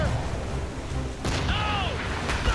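Ship cannons firing in Assassin's Creed Rogue: two sharp booming blasts over a noisy sea-battle backdrop, with shouting voices and a whistling sweep between the shots.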